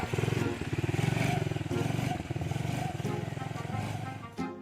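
A motorcycle engine idles and revs at a roadside police checkpoint, a steady, pulsing mechanical drone heard up close under overlapping talk between riders and officers, ending with a short clatter.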